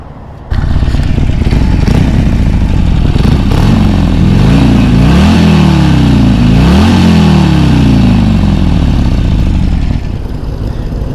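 An air-cooled 2020 Harley-Davidson Iron Sportster 1200 V-twin idles loudly up close, then revs up and down several times in rising and falling sweeps before settling back to a steady idle.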